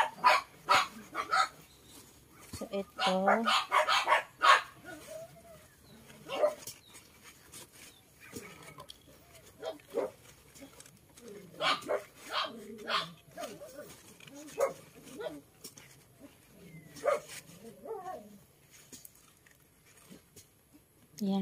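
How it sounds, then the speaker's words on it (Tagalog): A dog barks and whimpers at home in bursts, some sharp barks and softer whines, fairly near, with a person talking in between. "Nagsisimula naman mag-ingay yung aso namin dito."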